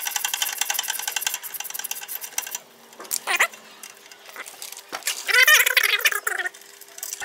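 Brake caliper bolts being undone on a Nissan X-Trail during a brake pad replacement: close, bright bursts of rapid ratcheting clicks and metallic rattles, separated by short quiet gaps.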